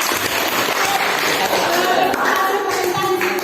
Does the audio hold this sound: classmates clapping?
yes